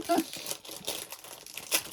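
Crinkly plastic rustling in short bursts, with a sharper crackle near the end, close and fairly quiet.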